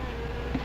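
Wasps buzz in a steady, close drone that stays even and unbroken, with a slight swell near the end and no voices over it.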